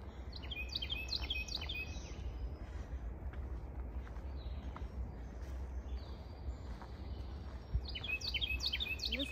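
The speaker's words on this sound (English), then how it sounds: "Some beautiful bird sounds today." Birds sing in the woods along the Appalachian Trail, with bright, repeated chirping phrases at the start and end over a soft, steady outdoor background, fairly faint and a little distant.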